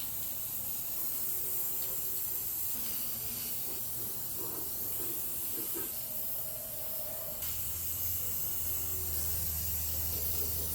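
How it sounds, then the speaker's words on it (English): A continuous close hiss of an aerosol spray paint can in a garage runs steadily throughout, with a low hum joining in partway through. "Now we're gonna spray paint."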